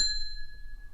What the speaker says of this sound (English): I should mention this bell that I just dinged.